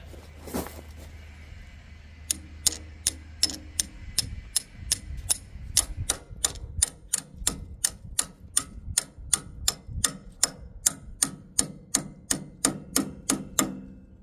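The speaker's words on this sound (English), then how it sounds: "we'll give it some hits with a hammer on this end" A hammer taps a metal grease fitting cleaning tool in a steady, even rhythm, about two sharp clinks per second, close and clear, with a brief louder knock at the start.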